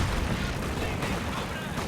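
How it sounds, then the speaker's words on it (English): Mortar half-track firing during a Company of Heroes 2 match, a dense wash of artillery booms and gunfire rumbling continuously in a loud, busy battle mix. "Mortar half-track wipes that flamethrower squad."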